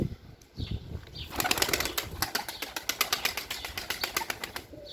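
Tumbler pigeons take off and fly, their wings clapping in a fast rhythmic series of sharp flaps close by, preceded by a few softer rustles.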